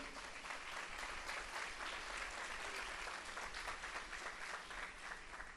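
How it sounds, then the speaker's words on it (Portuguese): A congregation applauds together in steady, continuous clapping that fills the room at an even level, heard faintly and at a distance, with no talk over it. "Pode aplaudir"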